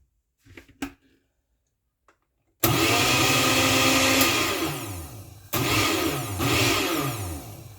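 A blender roars to life blending burger sauce with pickle juice, loud and whirring with a revving pitch, cutting out briefly and then starting again. A few faint clicks and handling noises come before the motor starts.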